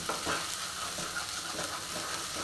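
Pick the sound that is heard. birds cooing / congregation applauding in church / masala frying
masala frying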